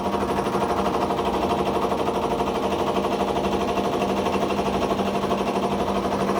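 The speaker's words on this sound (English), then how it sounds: "If we turn the compressor back on, open the valve back up, we go right back into operation." A RefTec Bull Dog refrigerant reclaim compressor runs steadily, giving off a dense, loud mechanical chatter with a constant hum, unchanging and with no talk over it.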